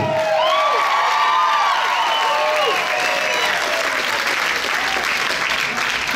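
A large audience at a burlesque festival in New Orleans erupts in loud, sustained applause with whoops and cheering whistles, dense and continuous throughout.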